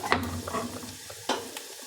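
Onions sizzle briefly in a pan, with a few light scraping and clicking stirs over a soft, steady frying hiss.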